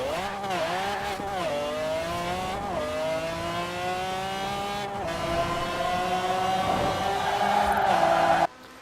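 A 2,000-plus horsepower supercar in Forza Horizon 4 accelerates hard and continuously, its engine note climbing through gear changes with brief dips between shifts, loud and close, ending abruptly.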